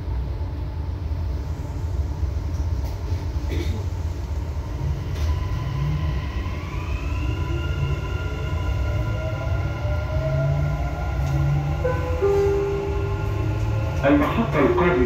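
Dubai Metro Green Line train riding between stations, with a steady rolling rumble and rising, then falling, electric motor whine as it accelerates and slows, heard from inside the carriage.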